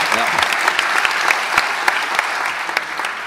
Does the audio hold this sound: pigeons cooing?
no